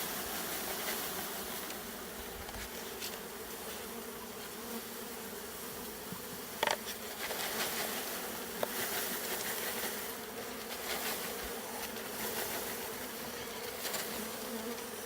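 Honeybees freshly shaken out of a jar into a hive keep up a steady, dense buzzing hum, close and continuous throughout with a few faint clicks.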